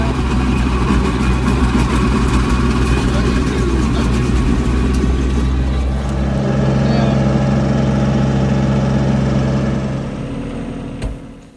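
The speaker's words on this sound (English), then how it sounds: "I'm going to try to do them with the old teeth on the stump grinder" Kubota B2650 tractor driving a Wood Mills WG24 stump grinder with worn teeth, a loud steady diesel engine drone with grinding rumble that holds most of the way, then winds down near the end.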